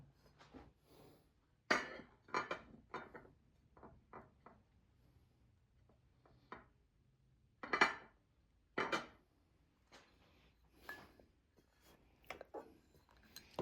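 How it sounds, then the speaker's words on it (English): Dishing up a home-cooked dinner of stewed peas with pig tail, stew beef, chicken foot and steamed rice: close, sparse clinks and scrapes of metal spoons against pots and plates, in irregular bursts with quiet gaps between. "Alright, so we're going to dish my dinner now."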